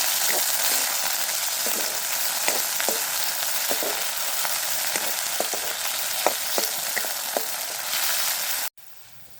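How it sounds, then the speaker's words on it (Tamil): Chopped pirandai (veldt grape) sizzles steadily in a hot pan while being sautéed, with a spoon scraping and tapping at irregular intervals, close and clear before the sound cuts off abruptly near the end. "பச்சை நிறம் போக மட்டும் நாங்கள் நல்லா வதக்க வேணும்."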